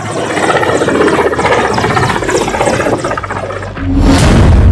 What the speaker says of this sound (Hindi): रईसी के काफिले में 1, 2, 3 हेलीकॉप्टर थे।